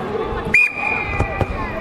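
A sharp referee-style whistle blast cuts in at a sports event, one sustained shrill tone about half a second long, loud over a noisy indoor crowd and bouncing thuds.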